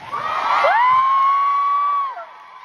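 Concert crowd cheering at a show in Seoul, with massed shouts and a long high sustained whoop rising over the noise, then fading out.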